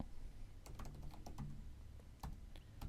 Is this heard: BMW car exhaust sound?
no